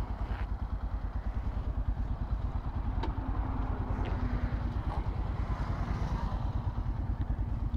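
A Yamaha FZ-S V4 motorcycle, 2024 model, idles steadily up close, its engine giving a continuous low, even putter throughout with a few faint clicks over it.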